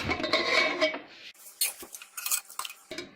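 A short rush of hissing air, then metallic clanks and clinks as a pressure cooker lid is worked open and set aside after cooking white urad dal.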